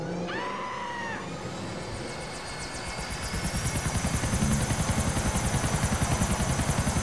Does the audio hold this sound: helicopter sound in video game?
yes